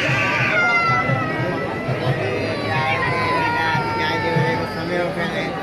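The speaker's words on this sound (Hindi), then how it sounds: "माशाल्लाह लोग भीड़ देख सकते हो आज" A dense crowd of pilgrims mills around gate number 4 of the Ajmer Dargah Sharif shrine, a steady close wash of overlapping voices, footsteps and bustle with no pauses.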